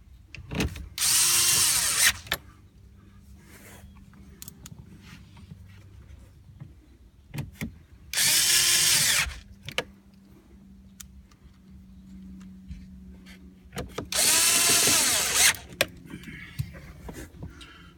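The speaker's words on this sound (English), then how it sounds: "And I got my little screw gun." A handheld screw gun drives screws into a Gen1 Honda Insight instrument cluster, 2000-2006 model, heard as three separate loud whirring bursts of about one to two seconds each, with quiet shop background between them.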